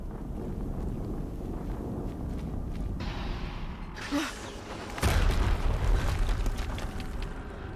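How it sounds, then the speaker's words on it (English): Explosion in the video game Horizon: Zero Dawn, a heavy, rumbling boom bursting in midway and lingering as a broad roar over wind-like background noise. "Another explosion."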